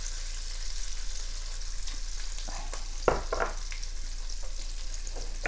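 Onions and heeng frying in oil for a bell pepper potato curry, a steady close sizzle with a few brief stirring scrapes near the middle, and no talk.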